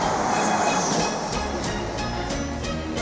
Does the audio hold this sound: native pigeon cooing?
no